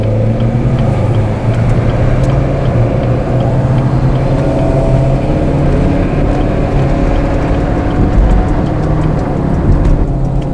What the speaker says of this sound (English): We'll just take off normal like the average person will be driving